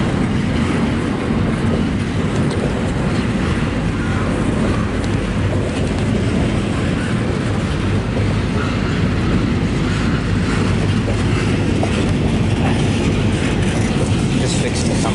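A new CPKC freight train of container cars rolls past close by, a loud continuous rumble with clattering wheels and steady rail noise throughout.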